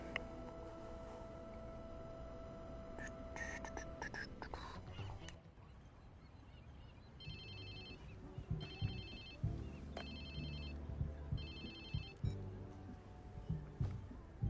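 A phone rings in the video game Watch Dogs 2, a repeating electronic ringtone in short regular bursts over game background sound, following an earlier stretch of other game audio.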